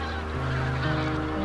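Geese honk at Hado-ri, a coastal wetland and tidal flat on Jeju that serves as a migratory bird stopover, giving a dense chorus of overlapping nasal calls that continues loudly throughout the short stretch.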